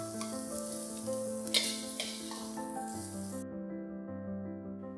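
Prawns fry in oil in a wok, a steady close sizzle running under a sustained tonal music bed, with a couple of brief sharper crackles midway.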